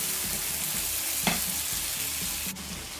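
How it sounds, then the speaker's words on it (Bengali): Yogurt being stirred into spices in a frying pan for a Bengali mushroom kosha curry: steady close sizzling with soft scraping strokes and one brief sharper clink near the middle, no voices. "দইটা আমি মিশিয়ে নিচ্ছি মশলার সাথে।"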